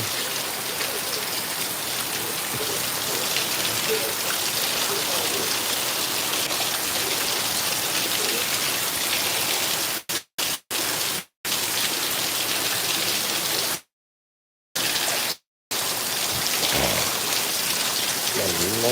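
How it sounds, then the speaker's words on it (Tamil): Heavy rain pours down outdoors in a loud, steady, dense hiss of drops hitting surfaces, broken by several abrupt dropouts of near silence before the downpour resumes. "சரியான மழை வேறங்கோ"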